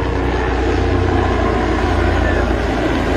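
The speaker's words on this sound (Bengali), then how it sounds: "আমি এই রাস্তাঘাটে গলি গলি হেলিকপ্টার আসছে, এই দেখেন।" A helicopter flies low over narrow lanes and streets, a loud, steady, droning engine rumble that fills the whole stretch without fading.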